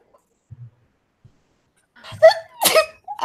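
A single sharp sneeze bursts out after a quiet pause and a quick intake of breath, close and loud, followed by a brief voice.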